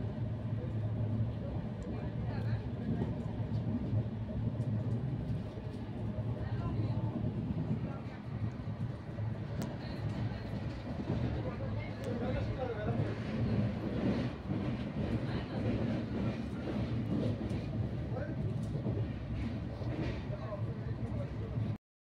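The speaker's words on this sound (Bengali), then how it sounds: "চা বাগানের মধ্য দিয়ে আমাদের ট্রেন ছুটে চলেছে নিজের গন্তব্যের দিকে।" The 15777 Tourist Express Vistadome train runs through tea gardens in the Dooars with a steady, loud rumble of wheels and carriage noise throughout, and faint voices underneath.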